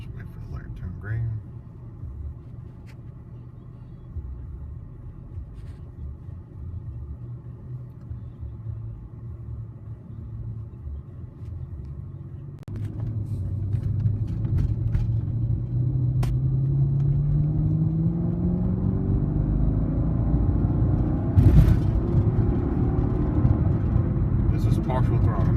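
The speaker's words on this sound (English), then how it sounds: "we'll go ahead and take it on the I-95 real quick, just to get you guys a quick pull" A stock 2006 Mercedes-Benz W211 E55 AMG accelerates onto the I-95 highway from inside the cabin. A low engine rumble swells into a loud, rising roar as the throttle opens, with a driver talking over it.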